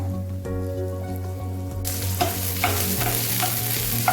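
Vegetables sautéing in a spoonful of oil over medium heat in a pan for a Tiruppur-style tomato kuzhambu: a steady close sizzle with repeated spoon scrapes and stirring clacks, preceded by a brief humming tone.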